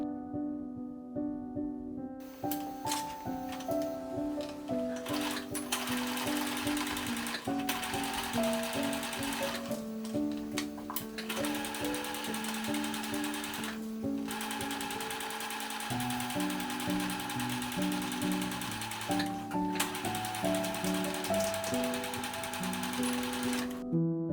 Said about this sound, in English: And top stitch all along the waistband to secure it.